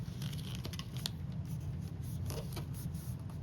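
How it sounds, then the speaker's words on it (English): Tape being torn and pressed along the edge of a handmade paper book, close rustling and scratchy crinkles with a brief sharp rip near the middle, steady and quiet, no talk. "adding the tear and tape on the edge"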